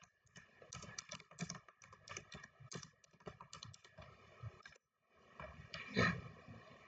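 Typing on a computer keyboard: a close, quick run of irregular key clicks and taps, a brief pause, then a few more keystrokes ending in a firmer press, with no talking.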